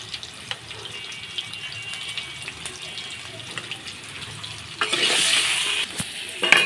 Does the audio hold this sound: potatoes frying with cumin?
yes